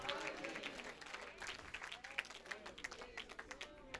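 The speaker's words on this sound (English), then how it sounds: "Let's give the Lord a big hand clap" A church congregation claps at an evangelist's service, a lively burst of hand clapping that thins into scattered, irregular claps, with voices murmuring underneath.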